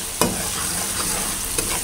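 Spices frying in a spoonful of ghee while being stirred, a steady close sizzle with a couple of sharper spoon scrapes, no voices.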